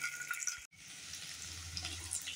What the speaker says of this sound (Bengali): তেল গরম হয়ে গেছে, এবার আমি পনিরের টুকরোগুলোকে হালকা লাল করে ভেজে নেব